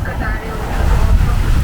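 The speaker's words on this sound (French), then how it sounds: "Un petit vent à 12 nœuds et on avance direction d'Elbe." Light wind of about 12 knots and water washing against a sailboat's hull while under sail toward Elba, a steady low rushing swell with some microphone wind buffeting, continuous and fairly loud.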